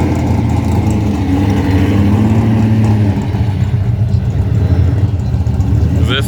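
Muscle car engines rumble loudly and steadily at the 2019 Roadkill Nights event on Woodward Avenue, building toward a burnout in the burnout box, with a continuous deep drone and a crowd murmuring underneath.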